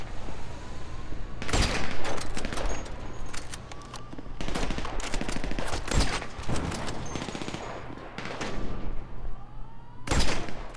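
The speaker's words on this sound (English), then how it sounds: "All this gunfire?" Rapid bursts of automatic gunfire fill a Grand Theft Auto V heist shootout against Merryweather security, dense volleys and single cracks overlapping at close range throughout.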